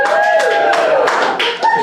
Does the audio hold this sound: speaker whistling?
no